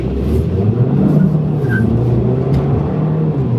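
A 2014 Mercedes A-Class with a 1.6 litre engine is driven hard, a loud, steady in-cabin engine drone that climbs in pitch as it accelerates.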